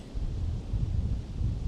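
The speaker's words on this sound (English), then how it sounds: "And it's windy" Wind rushes through the woods during a squirrel hunt, a steady low roar with rustling that fills the short stretch without any voices.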